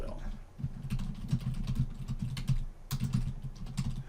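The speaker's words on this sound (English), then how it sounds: "What I can do is I can just start typing." Quick bursts of keystrokes on a computer keyboard while entering text at a Linux terminal, soft close clicking in irregular runs with a short pause partway through, no talking over it.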